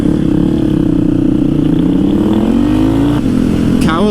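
A Harley motorcycle engine revs hard and steadily up close, a loud throaty drone that climbs in pitch near the end as the rider accelerates, with faint voices mixed in.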